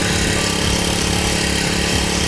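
A small Honda brush cutter engine runs loud and close, holding a steady, unbroken drone for the whole stretch.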